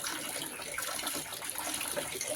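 Water splashes and pours steadily while soapy clothes are rinsed by hand, a continuous faint gushing close by with no talking.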